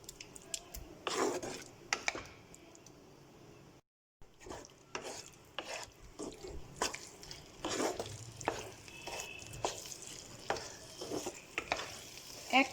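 Dum aloo being stirred in a pan over high heat: a soft sizzle runs underneath while a spoon scrapes and clacks against the pan in repeated strokes, with a brief drop to silence partway through.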